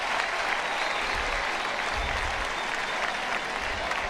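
Stadium crowd at the Florida State spring football game in Tallahassee, late in the game, roaring steadily and loudly throughout with a broad, continuous wash of cheering and clapping.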